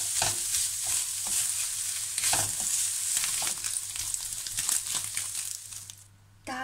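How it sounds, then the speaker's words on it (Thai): Pork stir-fries in a pan, loud sizzling with repeated scraping and stirring strokes, then the sound briefly drops near the end. "แต่จะคั่วหมูแทนนะคะ"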